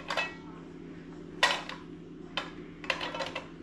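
A frying pan set onto a Firemaple Polaris regulated camping stove gives several sharp metallic clinks and knocks, close and fairly loud, spaced out over a few seconds against a low steady background hum.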